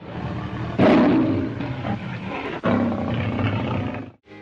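Lion roaring in the MGM studio logo: a loud, throaty roar that rises sharply, eases, then surges again in a second burst before cutting off into near silence.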